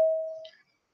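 A single electronic prompt tone from a phone recording system sounds once, a clear steady beep that fades out within about half a second, alone with no talk.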